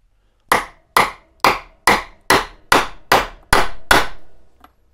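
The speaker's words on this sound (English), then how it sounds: "turn it over and drive the bearing out" Nine sharp metal hammer blows strike a socket to drive a seized bearing out of a Shurflo water pump housing from a campervan, evenly spaced and loud, with no talk.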